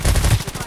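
Machine gun fire in the video game Knives Out: a brief, loud burst of rapid shots with heavy low thumps, quickly fading into a fast rattling pulse.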